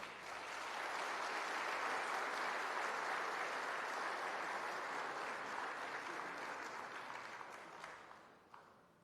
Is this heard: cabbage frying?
no